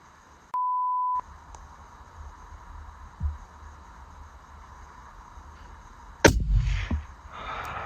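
A single rifle shot fired at an animal during a hunt: one loud, sharp crack near the end, with a short rumbling tail. Before it there is a quiet outdoor stretch and a brief electronic beep.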